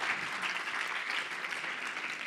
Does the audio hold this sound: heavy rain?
no